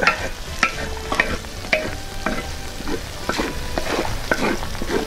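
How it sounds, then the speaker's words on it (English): Meat sizzling on an outdoor disk cooker while being stirred and mixed, with repeated scraping strokes of a utensil against the hot metal over a continuous close frying hiss. "You can pull this stuff up to the side and add the rest of our meat ingredients. We can mix all this up."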